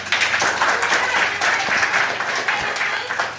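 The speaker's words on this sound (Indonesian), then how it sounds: "Oke, tepuk tangan dulu." A classroom of students claps hands together in a brief, dense round of applause, steady and close throughout.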